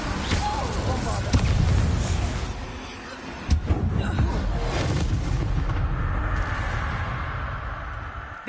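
Bombarda explosion spell in Hogwarts Legacy: loud blasts around the start, then a sharp burst a few seconds in, fading into a lingering rumble, with a voice talking over parts of it.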